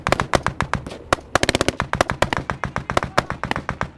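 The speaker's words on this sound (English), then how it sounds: "Estonian forces on the ridge by the police checkpoint are able to give us covering fire" Covering gunfire from Estonian army forces on a ridge by a police checkpoint in a firefight with the Taliban, rapid sharp bursts of shots cracking in quick succession, some evenly spaced, fairly close and steady throughout.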